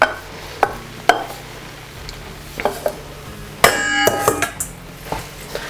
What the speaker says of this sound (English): I'm gonna mix it thoroughly